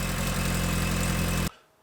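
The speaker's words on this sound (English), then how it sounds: "There is clearly a little bit of a leak in the exhaust here" A Lotus Elan M100 engine idles with a rough, puffing exhaust rhythm from an exhaust leak for over a second, then cuts off abruptly, leaving near silence.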